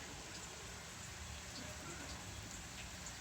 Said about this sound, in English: But I do love the sound of the rain.